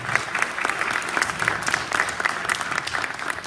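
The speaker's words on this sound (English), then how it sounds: "Let's give them a round of applause for giving us their time." A seated audience at a high school pitch night gives steady, sustained applause, many hands clapping evenly and fairly close, continuing without pause through the whole stretch.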